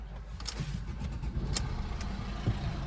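A Fiat Punto 1.3 Multijet diesel car engine starts and settles into a low, rough idle with a few sharp clicks and knocks on top, heard close and steady throughout.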